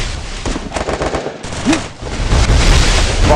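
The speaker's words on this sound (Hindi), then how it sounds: "यहाँ पे हेडशॉट लगाया जिग्स भाई ने" Dense, loud bursts of automatic gunfire from a Free Fire clash squad match, rapid rattling shots running almost continuously with a brief dip midway and no voices.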